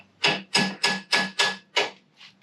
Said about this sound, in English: Just kind of give them a little tap